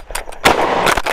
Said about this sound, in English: probably one of the softest shooting 380s I've ever shot